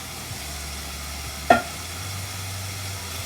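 Vegan fried rice is stirred in a hot pan: a steady low sizzle runs throughout, with one sharp scrape of the utensil near the middle, close and clear with no voices.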